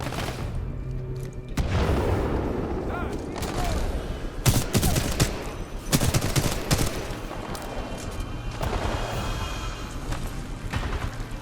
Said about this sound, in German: Ui, Granate.